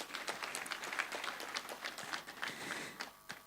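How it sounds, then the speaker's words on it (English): Scattered audience applause at a national council meeting on innovation, science and technology, with quick uneven claps from a modest crowd in a hall, fairly faint and steady throughout. "Please a round of applause, ladies and gentlemen."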